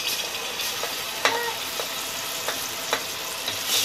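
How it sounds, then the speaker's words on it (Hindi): Ginger and garlic frying in a pan while being stirred for a green moong curry, a steady close sizzle broken by several sharp clicks and scrapes of the spoon against the pan, with no talking. "ये देखो अदरक लहसुन भून के हो गया"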